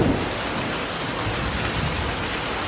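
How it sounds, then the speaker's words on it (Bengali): Heavy rain pours steadily with a low rumble of thunder beneath the dense hiss, a constant wash of sound with no voices. "আজকে সারাদিনই বৃষ্টি হবে।"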